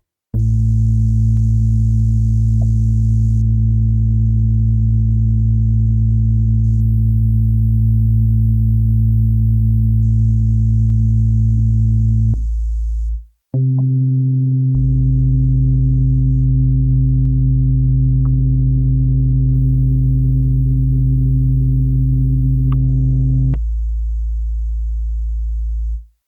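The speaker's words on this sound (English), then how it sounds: "When I play both basses simultaneously, you can clearly hear how the sounds blend together without interfering" Two synthesized bass sounds played together, with steady, droning low tones held in long blocks and broken by a brief gap, loud and with no voices.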